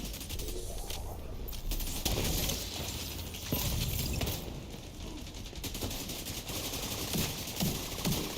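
Gunfire in the shooter game The Division 2, with rapid bursts of automatic fire and scattered shots layered over a busy, steady background of combat noise, moderately quiet overall.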